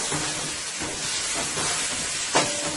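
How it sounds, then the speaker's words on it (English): Garlic, onions and chili pepper sauté in hot oil, giving a continuous close hissing sizzle with a brief sharper spurt near the end. "I'm going to let this saute for about a minute or two"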